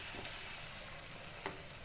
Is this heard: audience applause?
no